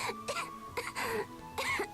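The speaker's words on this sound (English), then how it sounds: "she's coughing" A string of several harsh coughs and throat-clearing bursts from a female character in the video game Tales of Graces f, close and fairly loud, spaced irregularly across two seconds.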